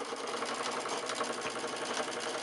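A sewing machine runs steadily stitching a quarter-inch seam on an hourglass quilt block, a fast even whirring chatter close by and uninterrupted, with no talking.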